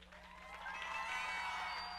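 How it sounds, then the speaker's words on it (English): Steady applause from a crowd, building slightly after the first second and holding, with faint scattered voices mixed in. "Give her a round of applause."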